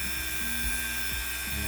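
A Dremel 4000 power carving tool runs steadily while hung from a bungee, giving a continuous high-pitched motor whine with a few faint low thumps underneath, no voices.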